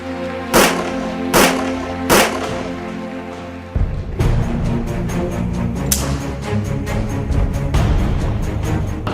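Several loud pistol shots ring out, three sharp separate reports followed by a denser run of overlapping blasts and rumbling echoes.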